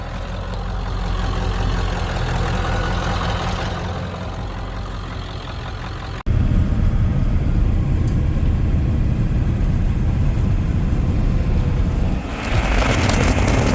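A 1996 Ford F250 with a 7.3L Power Stroke turbodiesel and a swapped ZF5 manual gearbox chugs slowly along in low range, its deep engine drone steady and close before swelling louder partway through.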